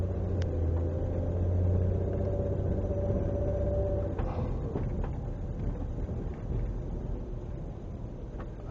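A 2005 Nissan Quest minivan drives along, giving a steady low engine and road rumble from inside the cabin, moderately quiet, with a few faint clicks and no talking.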